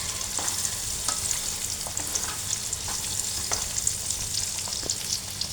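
Chicken and egg fry in a pan for chicken noodles, giving a loud, constant crackling sizzle broken by occasional scrapes and knocks of stirring, close up and with no voices.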